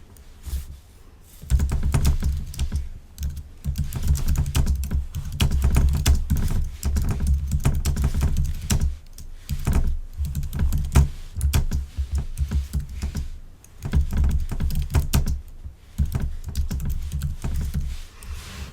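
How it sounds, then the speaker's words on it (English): Fingers tap steadily on a computer keyboard while a question goes into a text box, bursts of quick keystrokes broken by short pauses, moderately close with no talking. "And they would type their question in this box here."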